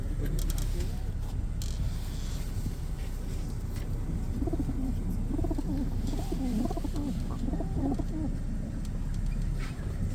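Pigeons coo at an outdoor pigeon market in Radom, Poland, soft repeated throaty coos rising through a steady crowd hubbub, with people talking nearby throughout.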